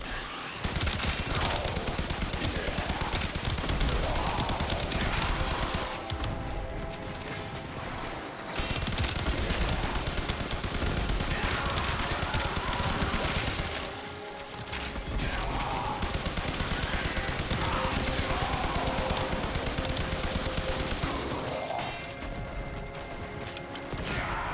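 Rapid bursts of gunfire and booming explosions from a bow in the video game Warframe, loud and nearly continuous, with brief dips in intensity between barrages.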